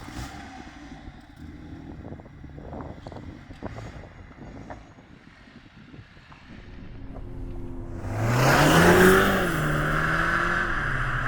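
A BMW M135 drives in sport mode, starting with a low road rumble and wind, then its engine note swells into a loud rising surge as it accelerates hard.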